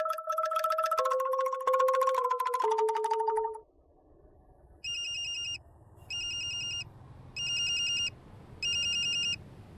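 A phone ringtone plays four short bursts of bright electronic trilling with pauses between, after a loud, melodic musical passage fades out.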